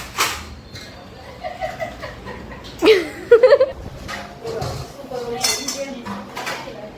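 Dishes and metal utensils clink and clatter as they are handled and set down, close by, with brief talking and a chuckle in between.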